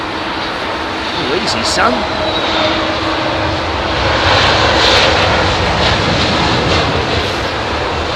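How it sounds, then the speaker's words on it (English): Icelandair Boeing 737 Max in new livery landing at London Heathrow in low visibility, its steady engine roar loud and close throughout, swelling slightly midway, with a voice briefly speaking over it. "Oh, he looked a little bit offline here, didn't he, this Icelandair 737 Max."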